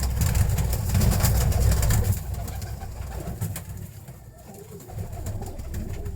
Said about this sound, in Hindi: ये इसका इस कबूतर का बेटा है